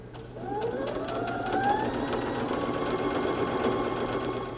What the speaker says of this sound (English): So we're going to go through and sew down all of those lines